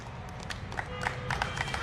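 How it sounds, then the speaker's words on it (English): Crowd applause welcoming teams marching onto the ground before a sports grand final, a brisk, fairly quiet patter of many hands clapping together, steady throughout with scattered louder claps. "So let's all welcome them with a big round of applause"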